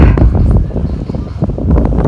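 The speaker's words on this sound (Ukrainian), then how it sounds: "Дуже сподіваюся, що мене чутно, тому що вітер навпроти вдує якраз." Loud wind buffeting a microphone outdoors in Plzeň, Czech Republic, heavy low-frequency rumble and irregular thumping gusts throughout, with no clear voice heard.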